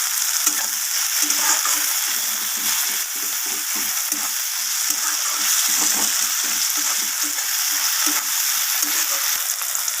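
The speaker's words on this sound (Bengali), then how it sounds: "টমেটোটাকে আমি ভেজে নেব ভালোভাবে আর দিয়ে দিলাম কয়েকটা কাঁচা লঙ্কা" Tomato and green chillies frying in a pan, giving a steady, loud hiss of sizzling oil that runs unbroken for ten seconds with a faint spoon stirring beneath it; no one speaks.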